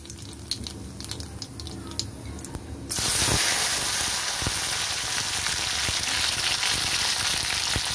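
Okra drops into hot oil tempered with black cumin seeds, and a loud, bright sizzle bursts up partway through, then holds as a steady close frying hiss after quieter crackles.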